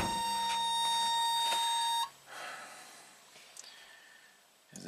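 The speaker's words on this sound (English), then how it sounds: "Oh yeah, the buzzer." The interior warning buzzer of a 1987 Toyota MR2 sounds as a continuous electronic tone for about two seconds, then stops abruptly, leaving only faint cabin rustling and clicks.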